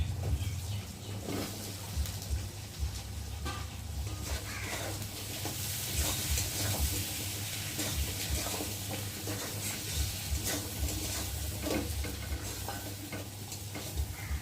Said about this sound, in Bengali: এখন এই যে কেটে রাখা আলুগুলোকে দিয়ে একটু ভেজে নেব।